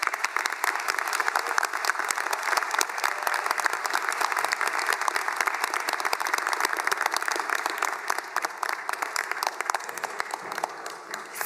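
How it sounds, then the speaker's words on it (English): Graduates at a Hobart graduation ceremony give a long, sustained round of applause for their supporters, a dense and even wall of many hands clapping that fills the hall without pause. "express your gratitude to those who have supported you with a round of applause."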